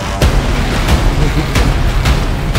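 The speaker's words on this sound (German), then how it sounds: "Jetzt wird explodiert!" Explosions in the video game Paragon, a series of sharp booms and bursts at irregular intervals over a continuous loud rumble of game action.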